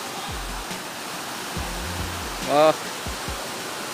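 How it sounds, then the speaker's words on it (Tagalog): Water rushes steadily at Dao Falls waterfall in Auring Village, a constant broadband roar filling the scene, with a few low thumps and a brief voiced exclamation partway through. "Yan yung agos ng tubig guys."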